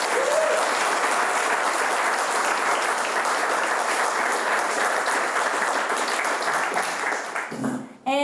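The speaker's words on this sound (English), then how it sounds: "so big round of applause for them" Loud, sustained audience applause at a United Way community campaign kickoff breakfast, dense clapping lasting several seconds before tapering off and cutting to a brief voice.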